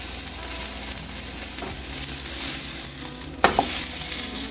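A tomahawk steak sears in a hot pan with a loud, continuous close sizzle, broken by a sharp clank or scrape of the pan or utensil near the end, and no voices.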